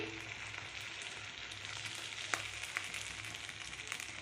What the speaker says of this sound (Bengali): এবারে ঢেলে দিলাম মটরশুঁটি